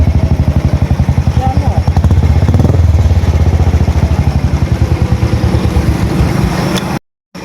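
A Bullet 350 motorcycle engine fitted with a new silencer idles close by with a rapid, regular thumping putter that holds steady for several seconds before cutting out briefly.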